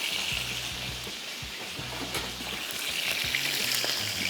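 Balochi-style fish masala frying on high heat: a steady, dense sizzle and crackle that holds throughout with no pauses and no talk.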